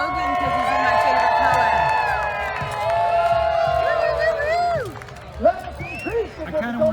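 An outdoor crowd at the Tampa Bay Area Renaissance Festival cheers loudly for a contestant with sustained shouts and whoops that fade after several seconds, followed by a few scattered individual yells and voices.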